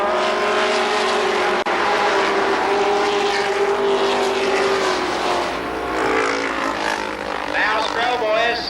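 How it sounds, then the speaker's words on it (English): Stock cars racing side by side at Columbus Motor Speedway during a 1994 season opener, a loud continuous engine roar with rising and falling pitch as the cars pass, with a commentator talking over it. "Some good 2-lane racing."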